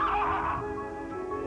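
A horse whinnies in a film trailer about a child and an injured horse, one loud, drawn-out neigh that fades into a sustained musical backdrop.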